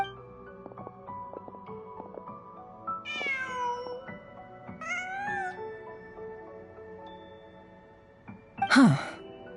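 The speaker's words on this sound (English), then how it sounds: "Huh. Just a cat." A cat meows twice in a video game, with drawn-out rising cries over soft background music, followed by a brief louder sound at the end.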